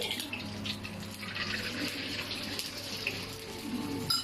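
Water pouring into a pan while cooking Thai creamy scrambled eggs, a steady close splashing rush that holds at an even level for several seconds, with no talk.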